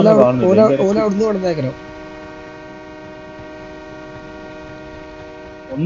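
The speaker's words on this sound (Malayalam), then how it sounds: "ട്രെയിൻ വന്ന് ട്രെയിൻ വന്ന് ട്രെയിൻ ഉണ്ടെന്ന് ഇവിടെ" A train passing through a PUBG match gives a steady, droning, horn-like tone that holds for several seconds after an excited voice stops.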